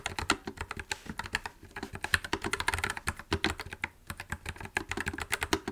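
Fingers type rapidly on a mechanical keyboard, a close, crisp stream of clicky keystrokes in an uneven rhythm, with brief pauses between bursts and no talk.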